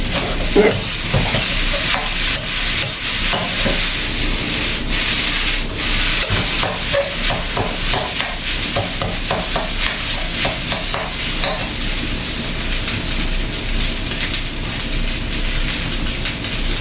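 Fried rice stirred in a pan over high heat, loud continuous sizzling with repeated scraping and tossing strokes, no talk.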